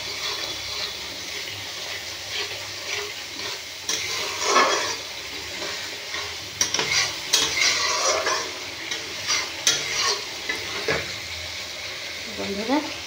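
Vegetarian potol and potato curry sizzles and gets stirred in a pan after a splash of water is added, with steady frying hiss and scraping stirs that grow more frequent toward the end.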